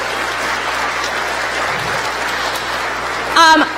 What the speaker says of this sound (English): So everyone give Annalise a round of applause